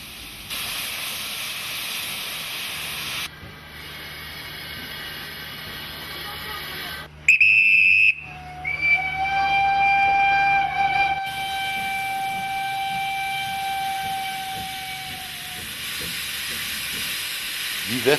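A steam locomotive on heritage line 132 hisses loudly with a continuous rush of escaping steam, broken by a short sharp whistle blast and a long sustained whistle tone fading out, all fairly close.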